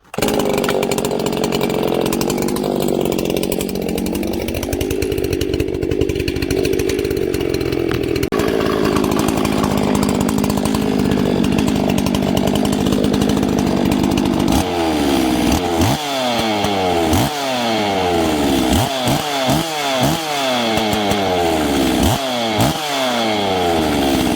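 A freshly ported chainsaw runs loud and close after its first start, revving and holding a high whine before dropping into a rough, pulsing idle.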